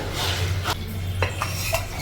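A few sharp metallic knocks and clinks as a pan is set on a lit stove, over a steady low hum, close and fairly loud.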